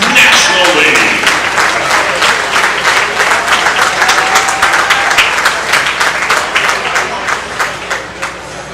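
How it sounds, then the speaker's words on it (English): Loud, sustained applause from an audience at a youth baseball showcase welcome dinner, many hands clapping in a fast, dense patter close by that continues throughout. "how about a big round of applause for the Power Showcase 13U National League"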